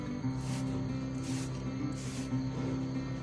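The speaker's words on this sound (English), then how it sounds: "I have here a solution of watered down mouthwash, and I'm just gonna spray it on here" Watered-down mouthwash spritzed from a spray bottle onto a horse's coat to treat rain rot, giving three quick hissing sprays about a second apart, close and fairly loud over a steady low hum.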